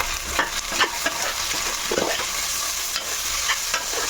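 Green peas frying in a pan for paneer pulao give off a steady close sizzle, with light stirring scrapes scattered through it and no voices.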